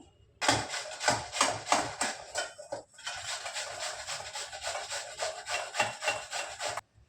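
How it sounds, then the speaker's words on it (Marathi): Bottle gourd is rubbed against a hand grater in quick rhythmic rasping strokes, close and loud, with a brief pause midway before the scraping resumes and then stops abruptly. "आपण हा दुधी किसून घेऊया. ही किसणी वापरत आहे मी."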